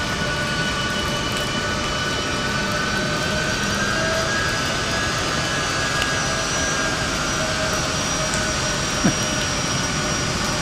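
A jet aircraft takes off from runway 13 left at Dallas Love Field on a rainy morning, its engine roar steady, loud and broadband throughout, with a distant whine over the wet rumble.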